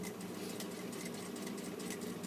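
A sewing machine stitches a fly zipper with a steady, quiet, continuous whirring hum and a fine rapid patter of the needle, heard alone at low level throughout.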